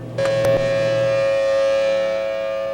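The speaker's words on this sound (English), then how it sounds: "and then we hit the sirens" A civil defense tornado warning siren in Oakland County wails steadily and loudly, a sustained rising tone that holds without pause.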